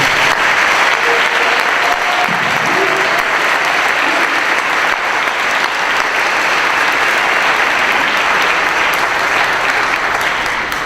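Sustained audience applause at a university citation ceremony, a dense steady wash of many hands clapping, loud and continuous throughout with no break.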